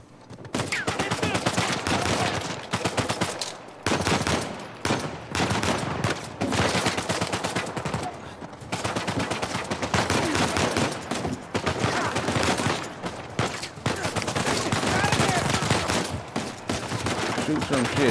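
Sustained gunfire in the video game Uncharted 4 on PS5, dense rapid bursts and overlapping shots rattling almost continuously for the whole stretch, with brief gaps, loud and close, while a voice talks over the shooting.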